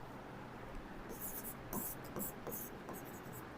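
A teacher writes on a classboard during a Class 9 physics lecture on motion, producing a run of short scratchy strokes in uneven bursts over a steady low hum in the room.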